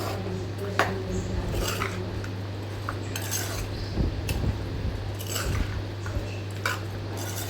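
Chicken being stirred in a cooking pan for chicken gravy, a metal spoon scraping and clinking against the pan in soft, irregular strokes, quiet and close with no talking.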